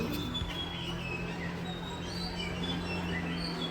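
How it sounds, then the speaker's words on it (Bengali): Morning birds chirp in a hill town on the way to Dharchula, Pithoragarh, with short high calls scattered over a steady low hum of distant traffic. "সুন্দর পাখির আওয়াজ"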